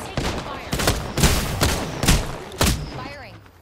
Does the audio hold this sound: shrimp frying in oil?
no